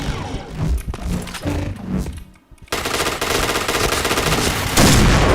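Rapid gunfire rattles through a PointBlank firefight, dense loud bursts of automatic shots, a brief lull, then a sustained heavy barrage close up.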